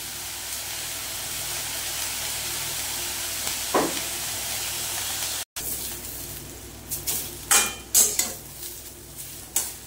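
Malabar spinach greens and stalks sautéing in a pan with salt, a steady soft sizzle with scraping and stirring clatters toward the end, close and moderately quiet.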